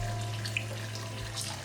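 Dyed yarn, navy colour washing out, rinsed under a running tap in a sink; a steady, close stream of water splashes throughout, with small drips and clinks on top.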